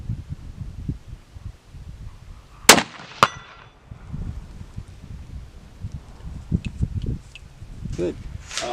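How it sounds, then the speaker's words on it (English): Bolt of a .308 deer-hunting rifle being worked, two sharp metallic clacks close together amid quiet handling noises and soft rustling. "it makes it smoother to work the bolt"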